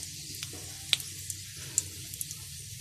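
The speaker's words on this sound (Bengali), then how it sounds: "কড়াইয়ে আমি তেল দিয়ে দিয়েছি, এবার দিয়ে দিচ্ছি গোটা গরম মশলা আর তার সাথে একটু শুকনো লঙ্কা" Whole garam masala and dried chillies fry in oil in a kadai, a faint steady sizzle broken by a few sharp pops and crackles.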